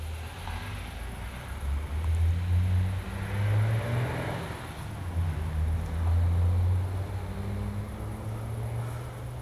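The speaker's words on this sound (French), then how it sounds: "Ah, il y en a qui ont de la sacrée voiture." A powerful car engine passes by outdoors, its deep rumble swelling and fading twice at moderate distance over low wind noise.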